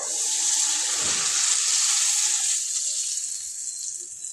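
A steady stream of water pours and hisses into a pan of cooked ginger-garlic paste for stuffed brinjal curry, loud at first and easing off toward the end; no voices.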